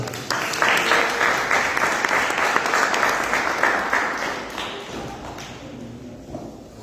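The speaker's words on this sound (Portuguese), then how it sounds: "As palmas do nosso Jesus" A church congregation claps together in a burst of applause, a loud, dense patter that rises abruptly, holds for several seconds, then thins and fades out.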